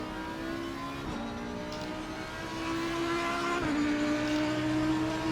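A McLaren race car in the GTMR racing game at Spa at sunset: a steady, loud, high-pitched engine drone with two gear shifts as it races by, with no talking over it.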